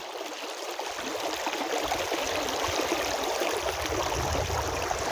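Water flows steadily in a small mountain stream in a hilly rural area, a continuous close rushing and trickling that holds an even level throughout, with no voices.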